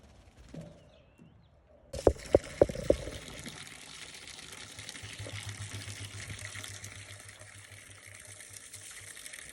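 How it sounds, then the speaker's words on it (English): Rain falls steadily on a farm on a stormy morning, with a soft, even hiss and a few sharp close taps as the downpour begins. "It's raining."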